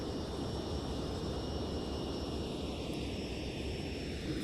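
Simulated Sukhoi Su-27 jet in Flight Simulator X spooling up for takeoff, a steady, dense engine roar with a faint high whine, continuous and fairly distant throughout.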